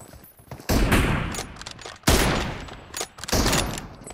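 Gunfire in an online shooter game during M24 rifle room practice, several loud overlapping bursts of shots separated by short quiet gaps.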